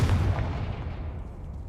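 A Confringo fire spell blasts in Hogwarts Legacy: a single loud, booming burst that quickly rolls off into a fading rumble, with no voices.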